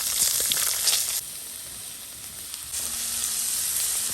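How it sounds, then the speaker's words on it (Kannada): Chopped onions and garlic roasting in a hot pan give a continuous close hiss that sizzles louder at the start, drops briefly, then swells again, with no voices. "ಸ್ವಲ್ಪ ರೋಸ್ಟ್ ಮಾಡುವ. ಇನ್ನು ಈರುಳ್ಳಿ ಹಾಕ್ತೇನೆ."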